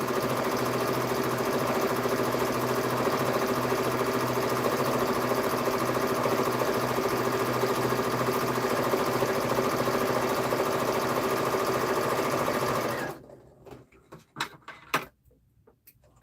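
A sewing machine stitching a seam on a patchwork duffle bag, running as a steady loud whirring hum for about thirteen seconds before stopping abruptly, followed by a few faint handling clicks.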